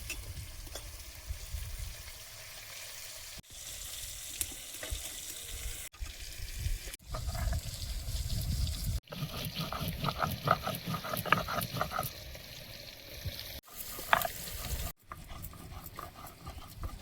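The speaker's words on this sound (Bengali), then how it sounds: "মাছ ভাজার তেলে বড়িটা ভেজে নেব।" Fish fry in oil, and then lentil dumplings go into the same fish oil, giving a steady, close sizzle with stirring scrapes and utensil clatter across a series of cut-together segments, with no talking.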